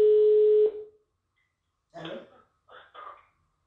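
A steady telephone dial tone sounds for under a second as a call is placed, then cuts off, followed by a few short bursts of voices or breathing near the line.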